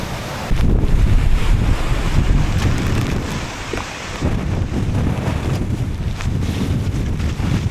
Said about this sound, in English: the winds are too crazy